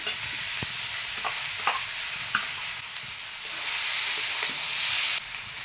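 Cumin and chili paste, ground on a stone slab, hits hot oil in a pan and sizzles steadily, with several scraping stirs of a spoon close by and no talking.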